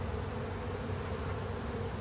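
Honey bees robbing a hive that has just died out make a dense, steady buzz of many wings. It is fairly faint and continuous, with no voices.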